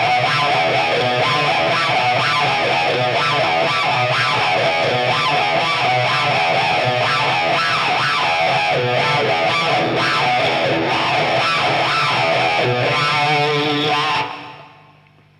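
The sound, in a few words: guitar riff played through a talk box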